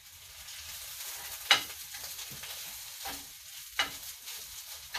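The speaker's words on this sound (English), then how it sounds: "my spinach to the pan. And it's going to immediately start to wilt down." Spinach wilting in a hot frying pan alongside browned onion, giving a continuous moderate sizzle broken by a few sharper scraping stirs of a utensil, with no talk.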